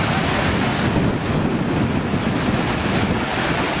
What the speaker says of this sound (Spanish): ¿Tira fuerte o qué la corriente? ¿Tira fuerte?